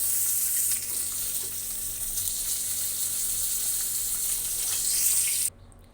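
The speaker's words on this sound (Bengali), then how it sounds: "এই তেলেই কিন্তু আমি শুধু কয়েকটা জিরে দিয়ে দিলাম" Cumin seeds sizzling in hot oil in a pan, cooked for a fish curry with green banana: a steady, bright hiss that runs unbroken for several seconds, then cuts off abruptly near the end.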